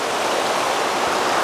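A waterfall spilling into a pool at a landscape photography spot, heard as a steady, loud, unbroken rush of falling water that fills the whole moment with no voices.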